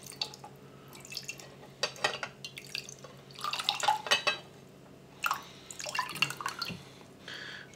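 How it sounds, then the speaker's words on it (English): Water poured into a raw ginger and garlic remedy: faint, scattered splashing and trickling bursts with small clinks of the container, close by and with no voices. "So generally what I'll do is I'll add some water to it."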